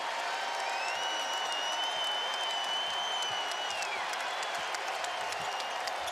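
Basketball arena crowd roaring and applauding after a slam dunk at an ACC men's game between Virginia Tech and Louisville, a dense, sustained wash of cheering and clapping throughout, with a whistle-like tone rising above it.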